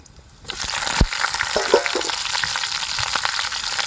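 Green chillies hit hot oil as the tempering for a village-style okra curry, with a sudden loud sizzle that settles into a steady, crackling fry with occasional spatters and stirring clinks.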